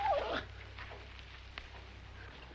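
A dog whimpers in a short, high, falling whine at the very start, then the scene goes quiet over a steady low hum in an old western outdoor setting.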